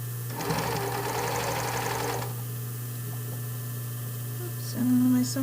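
A sewing machine runs steadily for about two seconds stitching a fabric brief, close and loud, then stops, leaving a low electrical hum and a few faint clicks and handling sounds.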